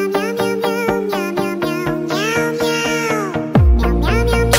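Two cats meow back and forth in a loud, close, rapid exchange of rising and falling cries, ending in a drawn-out caterwaul, with no talking.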